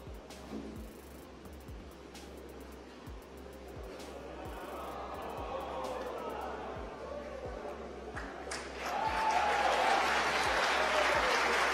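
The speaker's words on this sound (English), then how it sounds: "You can hear from the applause." Crowd applause and cheering in a launch viewing room after a SpaceX Falcon 9 first stage landing on the Iridium-3 mission, rising from a soft murmur to louder sustained clapping, with a regular ticking pulse underneath.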